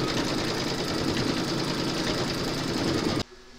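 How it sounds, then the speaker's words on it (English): An embroidery machine stitching the centre of a free-standing lace poppy, a loud, fast, steady mechanical whirr and needle chatter close by that stops abruptly near the end. "you're going to stitch the center, and that's round number six"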